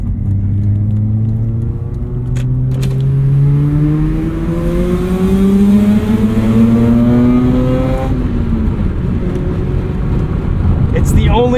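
A 2009 Mazda RX-8 rotary engine revs steadily from inside the cabin, its pitch rising and falling in smooth sweeping harmonics over about eleven seconds, loud and continuous with road rumble beneath.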